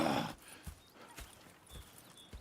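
Hooves clop in a slow, uneven walking rhythm in the video game Red Dead Redemption 2, with a brief rustle at the start and faint high tones in the background.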